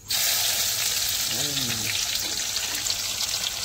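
Garlic and onion fry in a pan with a steady, close sizzle and hiss that runs the whole time, while a voice speaks briefly in the middle.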